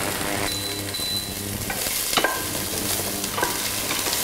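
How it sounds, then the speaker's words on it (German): Steady, loud sizzling of chopped spring onions frying in a pot for carrot-orange cream soup, with occasional stirring scrapes and clinks throughout, no voices. "etwas Frühlingszwiebel zum Anbraten in den Topf"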